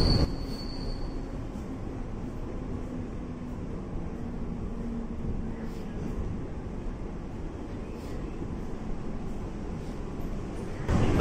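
A Mumbai local AC train runs with a steady loud rumble of wheels on rails, a faint squeal rising early on, heard from inside the carriage with no talk.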